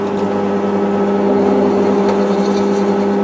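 A small drill bit grinds steadily into hard metal in a workshop, a continuous loud whine with a steady machine hum underneath, held without a break.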